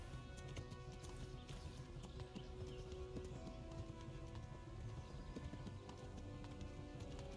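Steady clip-clop of a horse's hooves in the medieval video game Kingdom Come: Deliverance, a continuous trotting rhythm mixed with game ambience and other sound effects.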